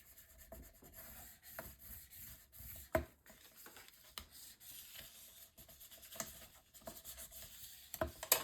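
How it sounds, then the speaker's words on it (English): Paper being burnished down onto a Stamperia Songs of the Sea mini album page gives soft, close rubbing strokes in short repeated bursts, with a few sharper scrapes and taps, fairly quiet and without voices. "then burnish this down"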